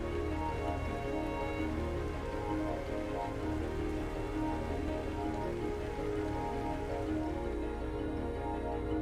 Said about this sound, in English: That rain sounds gorgeous though.